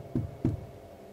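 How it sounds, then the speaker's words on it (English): Two sharp knocks on a table in an underground tunnel, a quick pair of hollow thuds about a third of a second apart followed by quiet. "Try knocking, or knock on the table."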